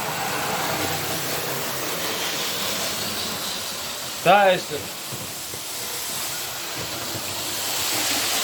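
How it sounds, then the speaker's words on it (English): A Hitachi 395 model train runs on a model railway, producing a steady, fairly loud whirring rush throughout, with a brief spoken phrase partway through. "Here is my favourite train."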